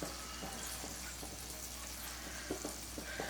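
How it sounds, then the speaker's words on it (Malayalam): Shallots frying in hot coconut oil in a clay pot give a faint, steady sizzle with a few soft stirring taps scattered through it, and nobody speaks. "എണ്ണ ചൂടായിട്ട് വരുമ്പോൾ നമുക്കിതിലേക്ക് ചെറിയ ഉള്ളി മുറിച്ചിട്ട് കൊടുക്കുക."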